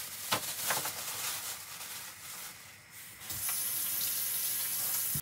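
Tap water runs into a kitchen sink while homegrown tomatoes are rinsed under it, a steady splashing hiss with a brief lull midway before the stream grows fuller and continues to the end.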